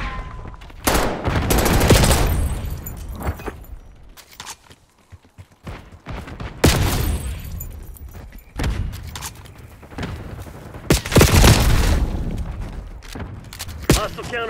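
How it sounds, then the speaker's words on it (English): An enemy marksman fires in Call of Duty Black Ops 6 on Nuketown, with loud bursts of gunfire and heavy impacts repeating across a busy multiplayer match with thuds and footsteps. "Enemy marksman shooting!"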